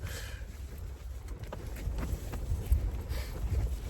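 Strong gusting wind buffets a wild camp on a mountain, a low roaring rumble with microphone buffeting that rises and falls continuously, with no talk.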